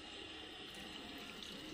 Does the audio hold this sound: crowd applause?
no